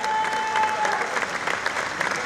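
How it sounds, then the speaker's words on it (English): Audience applause at the Bocuse d'Or 2015 final, a culinary awards ceremony in Lyon: a steady, dense wash of clapping from a large crowd, sustained evenly throughout. "Xavier Plotizza, sous vos applaudissements."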